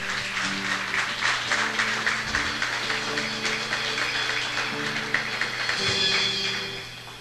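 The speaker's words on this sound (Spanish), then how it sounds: "¿Puedes darle una ofrenda de palmas a Dios?" A church congregation applauds during a Spanish-language service, a dense, steady clapping that fills the whole stretch at moderate loudness, with faint sustained musical tones underneath.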